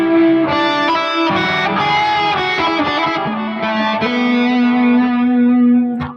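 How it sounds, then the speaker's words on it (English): Heavily distorted electric instrument tone through an effects chain, sustained chords and notes ringing loud and continuous with a thick buzzy edge, ending in a brief sharp accent. "I usually don't put that much distortion on it."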